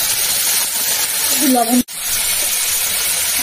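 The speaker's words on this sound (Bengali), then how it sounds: "আবার তেল দিচ্ছি, কুচি দিয়ে দিচ্ছি, কাঁচা লঙ্কা কুচি দিয়ে দিচ্ছি, সব ভাজবো" Chopped onion and green chilli fry in hot oil in a pan, giving a steady close sizzle and hiss with a brief murmur of voice and a momentary dropout near the end.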